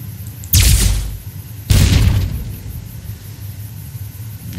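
Two heavy, loud booms from a truck exploding in Fallout: New Vegas, about a second apart, each trailing off into a low rumble over a quiet background.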